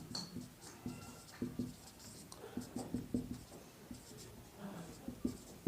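A pen scratches and taps across paper while a maths solution is written out, a faint, close run of irregular strokes with small gaps and no talk.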